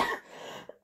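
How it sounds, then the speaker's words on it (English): A short cough and throat-clearing sound from someone indoors in a home, heard at the start, followed by a quieter tail and a brief noise at the end. "coughing in the background"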